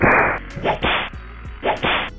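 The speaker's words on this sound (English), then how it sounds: "the whipcrack sound effect is 10 times more prevalent here" Whipcrack sound effects from a movie soundtrack snap out loudly, several sharp cracks and whooshing lashes in quick succession, with no talk over them.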